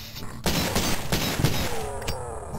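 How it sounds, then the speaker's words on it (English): Shotgun blasts in the video game Cultic, several loud, sharp booms in quick succession over game ambience, fading into a short tail. "Let me go with shotgun."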